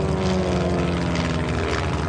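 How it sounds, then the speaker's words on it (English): A clipped-wing aircraft's propeller engine drones steadily at the 2024 Westmoreland County Airshow, a loud continuous buzzing hum with a faint announcer's voice underneath. "You're watching Erik Edgren and his clipped-wing aircraft."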